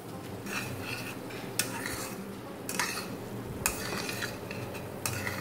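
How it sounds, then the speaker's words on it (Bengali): Pointed gourd is stirred and fried in spice paste, a low frying sizzle under repeated scraping and sharp clinks of a spoon against the pan at irregular intervals, close by. "পটলটা দিয়ে আবার একটু কষে নেব মশলার সাথে।"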